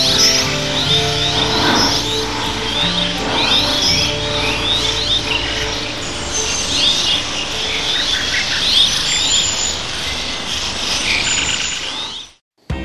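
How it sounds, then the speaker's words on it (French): Many birds chirp and call at once from a mountain cliff face in Spain's Ebro region, a dense, lively chorus of overlapping tweets heard steadily at close range until it cuts off near the end. "nous nous retrouvons en face d'un fronton montagneux où une multitude d'oiseaux ont établi leur habitat"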